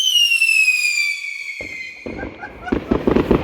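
A New Year's Eve firework cake that tipped over during lighting lets out a long, loud descending whistle. Sharp crackling bursts and pops follow close by.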